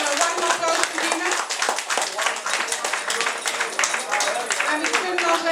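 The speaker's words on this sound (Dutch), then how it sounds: "Want ik vind dat die echt een warm applaus verdienen." Warm clapping from a crowd at a carnival parade event in Westdorpe, Zeeland Flanders, steady and fairly close, with voices and cheers mixed in throughout.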